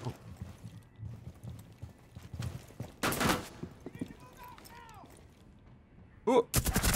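Gunfire in the video game Rainbow Six Siege, with a loud burst of shots around the middle and a rapid volley at the end, between quieter stretches of game noise and distant voices.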